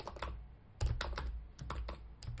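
Fast, uneven typing on a computer keyboard, with a rapid run of close clicks and clacks that comes and goes in short bursts, heard alone at low volume.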